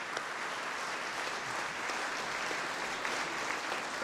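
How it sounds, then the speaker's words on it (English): Guests at a Boys and Girls Club donor appreciation luncheon give club alumni a round of applause, a moderate, even patter of many hands from a room-sized crowd, with no voices over it. "Let's give them a round of applause."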